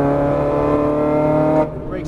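A Ferrari 430 Scuderia engine holds a loud, steady harmonic drone under throttle for about a second and a half, then cuts off abruptly. It rises slightly again near the end, close and dominant throughout.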